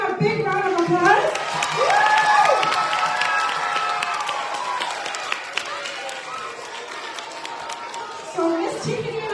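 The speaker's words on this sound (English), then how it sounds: "Let's give them a big round of applause." Applause mixed with crowd cheering and children's shouts at a kids' concert show in Canada, loud and steady throughout, with voices and chatter under the clapping.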